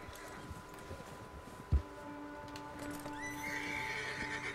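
Agitated horse in Red Dead Redemption 2 neighs and whinnies over clip-clopping hooves, with a sharp thump midway and a long rising whinny near the end, fairly close, no talking.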